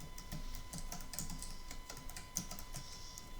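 A computer keyboard clicks in quick, irregular keystrokes, soft and close, with a faint steady hum behind it and no voices.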